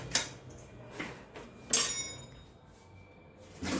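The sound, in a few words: spoon being fetched and handled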